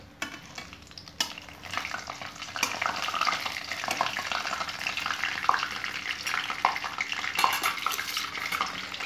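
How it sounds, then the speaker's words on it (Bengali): Panch phoron, bay leaves and dried red chillies fry in hot oil for bhog labra, giving a steady close crackle with scraping stirs throughout. "এখন এটা একটু ভাজা ভাজা করে নেব।"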